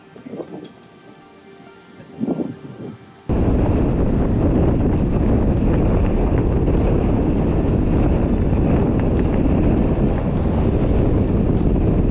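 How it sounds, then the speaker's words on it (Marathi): Strong wind buffets the microphone on a resort rooftop terrace at Malshej Ghat, starting abruptly after a few quieter seconds with faint wind and then roaring loudly and steadily without a break. "हवा बघा काही सुटली आहे जबरदस्त"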